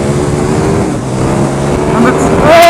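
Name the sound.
KTM 1290 Super Duke R motorcycle engine decelerating off throttle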